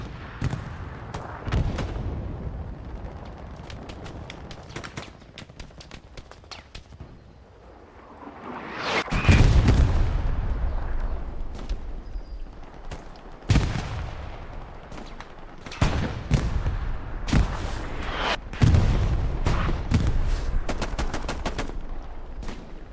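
Grenade blast and rapid gunfire in Hell Let Loose during a competitive match, loud repeated bursts and booms punctuating a rumbling battlefield, with one heavy explosion standing out midway.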